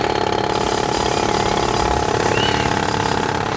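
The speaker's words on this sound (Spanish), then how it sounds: "decide irse a un sitio donde hay hombres trabajando con un martillo eléctrico" Workmen run a jackhammer in a film scene, a loud, steady, unbroken rattling hammer that stays close and constant throughout.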